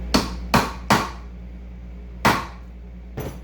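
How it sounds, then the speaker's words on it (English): Five sharp metallic hammer blows flatten a rivet against a hard, even surface during a restoration of a 1973–87 Chevrolet/GMC C10 truck vent glass window, struck in an uneven rhythm with short ringing decays and no talking. "you're going to smash that rivet"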